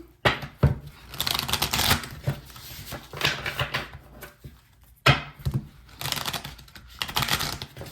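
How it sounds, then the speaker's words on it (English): Repeated bursts of riffling and flicking tarot cards being shuffled, close up, coming in several quick rounds with short pauses between them. "So I'm just gonna give some shuffle before we go ahead."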